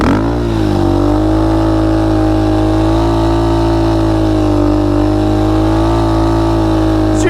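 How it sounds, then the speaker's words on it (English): Quad engine held at high, steady revs throughout a powerslide, with throttle blips on a loud, close, continuous droning tone that wavers slightly as the load shifts. "the key to success is to blip that throttle hard as you turn it."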